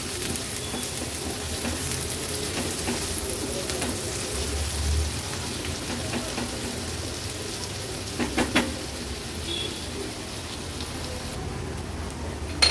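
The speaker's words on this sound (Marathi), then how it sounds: "आता कांदा आपण शिजवून घेणार आहोत" Onion with ginger-garlic paste sizzling in a pan over a low flame while cooking an Agri Koli style fish thali; a steady, fairly close frying hiss that runs throughout with no talking.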